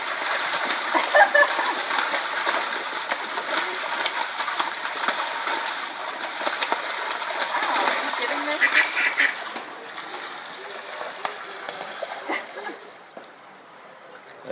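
Two mallard ducks fight in a lake with quacking and repeated splashing, a busy close flurry of water and calls that continues steadily before fading toward the end, with faint talk in the background.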